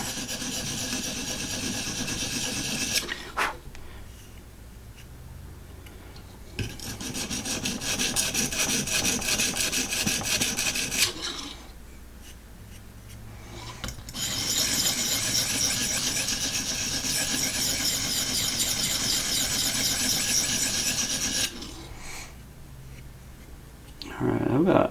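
Long grinding passes of a custom knife on a Vipersharp sharpening system, several sustained rasping stretches broken by short quieter pauses, close and steady, with a voice talking in places.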